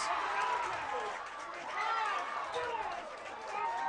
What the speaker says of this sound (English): And listen to this crowd. They are going crazy for the senior right now.